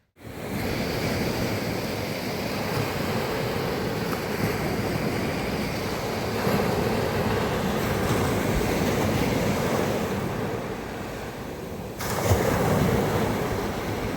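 Ocean surf rolling onto a Konkan beach in the dark just before dawn, a steady continuous wash of waves with some wind rumble on the microphone, building slightly louder near the end, no voices.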